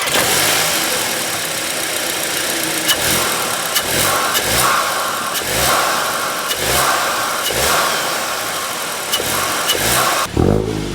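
A 2025 Volkswagen Golf GTI's 2-liter turbo engine revs repeatedly, with sharp rising blips and drops in a steady rhythm, loud and close throughout before cutting off near the end.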